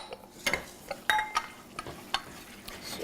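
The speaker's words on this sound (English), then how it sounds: "just keep whisking" A whisk knocks and scrapes through zucchini bread batter in a bowl, a handful of quiet, uneven clicks and clatters close by with no talking.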